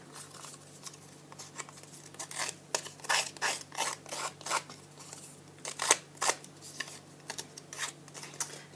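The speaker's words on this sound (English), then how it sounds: "I want to make the edges a bit more distressed, so I'm gonna use my distressing tool from Prima" Prima distressing tool scraping along the edges of a paper card, in a rapid run of short rasping strokes that come in bursts, close and fairly quiet.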